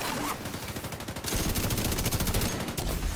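Sniper rifle and automatic gunfire in a PvP match of The Division 2, with sharp repeated shots crackling in dense bursts, the firing steady and loud across the whole moment with no voices.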